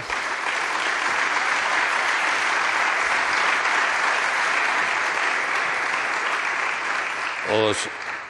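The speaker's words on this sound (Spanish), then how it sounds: "Os pido un aplauso fuerte para los integrantes de la mesa" A large audience at a study presentation in the Spanish Congress of Deputies gives loud, sustained applause for the panel members, a steady unbroken roar of clapping that continues for several seconds with a brief knock near the end.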